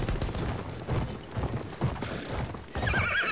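A horse in the Battlefield 1 video game neighs and clops its hooves across a battlefield, the whinny and hoofbeats running close and loud under a steady wash of game noise and distant gunfire.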